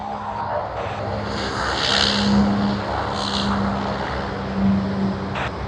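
Singapore Airlines A350-900 airliner pushing back from the gate at Sydney Airport, a steady broad jet engine drone with a low hum that swells slightly around the middle, continuous and moderately distant.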